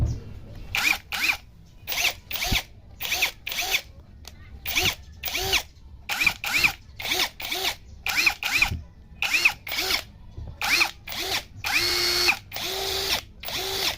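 Generic Makita-style 18V cordless impact driver set to speed 4, firing in a steady train of short, loud mechanical bursts with brief pauses between them, close up and with no speech over it.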